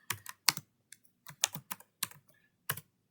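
A computer keyboard is pressed in short bursts of close, crisp keystrokes, including a Ctrl+S save shortcut, with brief pauses between clusters in a quiet room.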